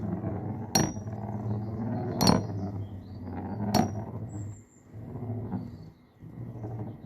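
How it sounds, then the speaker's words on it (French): Metal Beyblade spinning tops, Striker and Gravity Destroyer, battling in a stadium: a steady whirring hum broken by three sharp, bright metallic clacks at regular intervals as they collide, then the spinning wobbles and fades. "les coups sont beaucoup plus puissants qu'avec les toupies Beyblade Burst"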